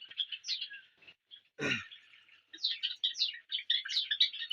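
Java sparrow chicks chirp in quick, high bursts from inside a breeding box at a bird farm, the thin calls clustering close by, broken once by a brief low thump.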